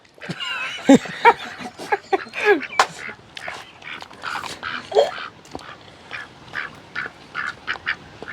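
A group of ducks quacks in repeated nasal bursts, near and lively, the calls coming in an uneven rhythm and growing into a steady string of quacks over a quiet background.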